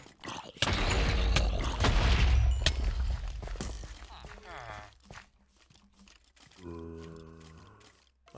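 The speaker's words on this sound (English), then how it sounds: "That must be the cannon." Cannon fire in the Minecraft adventure map Assassin of Steve: a loud, dense booming and crashing burst fills the first few seconds, then trails into scattered impacts and a tonal game sound, with the player talking over parts.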